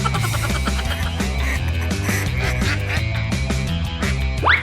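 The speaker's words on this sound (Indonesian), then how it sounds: "Semua bebek masuk ke kandang walaupun dibantuin Bapak." A flock of ducks quack in dense, overlapping calls while being herded into a pen, loud and close, mixed with background music.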